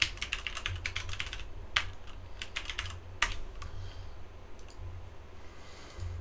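Fingers type a name on a computer keyboard in quick irregular bursts of close, crisp key clicks, with short pauses between runs and no talking.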